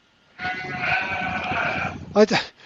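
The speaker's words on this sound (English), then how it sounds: "Where are the sheep? Are they in your living room? That's really loud." A single loud, drawn-out sheep bleat lasting about a second and a half, close and wavering, followed by a brief voice.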